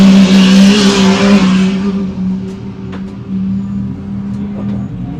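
A competition race truck at the High Desert 100 off-road race in Powell, Wyoming roars loudly past the start-finish line, its engine droning at full power and then fading as it pulls away.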